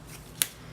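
A single quick snip of scissors cutting planner sticker paper for an Erin Condren horizontal planner, close and sharp against a quiet room.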